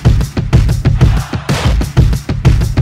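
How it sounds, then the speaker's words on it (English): A chanting stadium crowd layered into a hip-hop beat, with steady punchy kick and drum hits pulsing underneath the roar of massed voices; loud and dense throughout with no clear speech. "I also layered in this chanting crowd sound from like a stadium."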